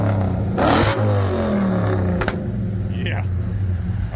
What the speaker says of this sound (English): Wyatt, give me a couple revs.